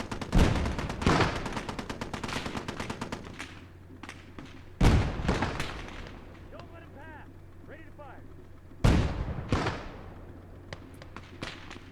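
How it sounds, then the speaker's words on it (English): Mortar fire in the World War II strategy game Call to Arms: Gate of Hell, with several loud, sharp booming blasts followed by rattling gunfire and distant battle noise between shots. "we've got the mortar firing away as well"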